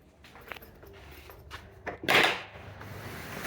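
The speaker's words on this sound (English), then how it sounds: "That opens easy enough, such a big door." A large, heavy, thick wooden door of St Peter's Church in Rendcomb swings open with a soft creak and a loud scraping swell of wood, preceded by faint handling clicks, then settling into quiet room ambience.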